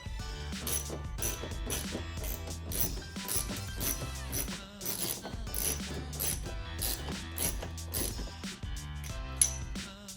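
Bolts being tightened with a ratcheting hand tool while refitting a wheel: a rapid, continuous metallic clicking and ratcheting sequence, close and busy throughout with occasional small clinks.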